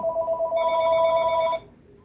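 A telephone rings once, a bright electronic double-tone trill lasting about a second and a half, then cuts off to near silence.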